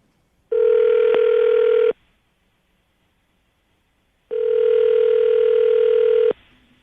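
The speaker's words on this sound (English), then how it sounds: "let's make your phone call then" A telephone dial tone for a phone call: two loud, steady electronic tones, each held for over a second, separated by a silent pause, close and clear with no talk.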